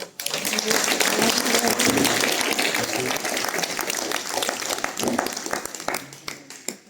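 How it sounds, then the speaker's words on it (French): Sustained applause from an audience at a club tribute honouring a president of 15 years, dense rattling claps filling the room steadily before thinning out near the end. "Cela mérite des applaudissements."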